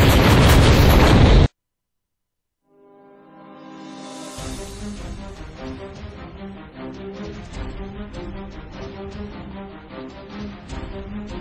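A bomb goes off in the Code: Realize video game, a sharp close blast followed by a long, loud rumbling roar with crackling debris that fills the rest of the clip.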